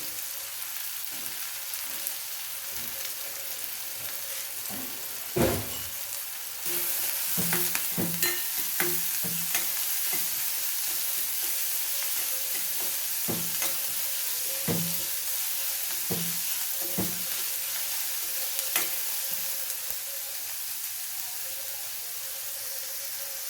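Onion frying in a pan for an okra dish, with tomato about to be added; a continuous soft sizzle with scattered spoon taps and scrapes, a brief louder clatter early on, and no voices.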